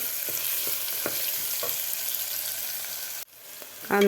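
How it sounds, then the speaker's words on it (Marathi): Chopped onion frying in a pan for a dhaba-style whole masoor dal, a steady close sizzle with a few soft spatula scrapes and taps, then a brief drop and a sharper clatter at the end. "कांदासुद्धा आपल्याला दोन ते तीन मिनिट व्यवस्थित फ्राय करायचा आहे"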